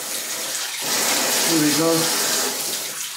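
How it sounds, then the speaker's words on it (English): Water gushes from a shower faucet after the household supply is turned back on, a steady hissing spray that swells midway, with someone speaking briefly. "So when I turn on the water downstairs,"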